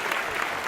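A brief burst of canned applause fired from a clap button: dense, steady clapping that fills the whole short moment at an even level.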